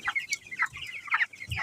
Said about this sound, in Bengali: তোমাদের মুরগি কত বড় হয়ে গেছে দেখো